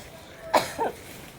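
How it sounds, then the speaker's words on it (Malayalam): A single sharp cough, close and fairly loud, with a softer second hack just after, set against a quiet background. "ചുമയാ"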